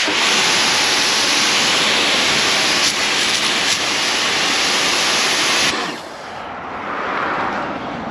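A pressure washer rinsing a Subaru Forester STI during a maintenance wash, a loud continuous hissing spray that runs steadily, then cuts out abruptly, leaving a quieter, softer spray.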